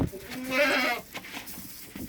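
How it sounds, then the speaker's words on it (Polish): A goat on a farm gives a single loud, wavering bleat close by, with faint shuffling and farmyard noise around it and no speech. "Co beczysz?"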